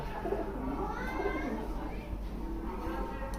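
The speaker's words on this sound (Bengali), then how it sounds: "একবারে নিচে বাড়ির নিচে কবুতর" Pigeons kept at the foot of a house coo softly and repeatedly, with voices and children faintly audible in the background.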